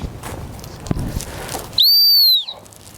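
Sharp, loud whistle blast about half a second long, a steady high pure tone, sounded during gun dog heel training outdoors after quieter rustling background.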